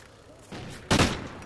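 Suppressive gunfire in a shooter video game erupts as a loud, close burst, rising from a steady rumble into a sharp blast near the end.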